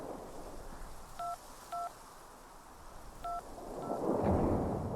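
Telephone keypad tones in the video game Syberia 2, four short evenly pitched beeps spaced across a few seconds, heard over a steady backdrop of rumbling wind and storm noise.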